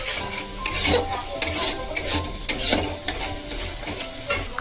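Tomato and spice masala fries and sizzles in a pan on a raised gas flame, with steady scraping strokes of a spoon stirring through it at close range, no voices.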